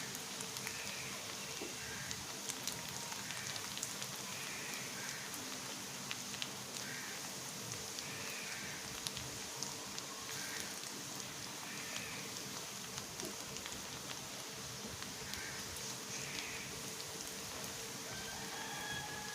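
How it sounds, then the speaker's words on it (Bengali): Onions sizzling in hot oil in a pan as a tempering for beef trotter nihari, a steady dense crackling hiss that runs unbroken and fairly quiet throughout, with no voices. "প্যানে তেল দিয়ে পেঁয়াজগুলো দিয়ে আমি বাগার দিয়ে দিচ্ছি"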